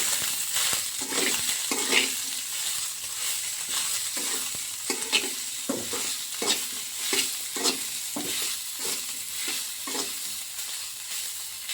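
Soybean chunks stir-fried in hot oil with salt for vegetable fried rice, with close, steady sizzling broken by repeated scraping stirs throughout and no talking.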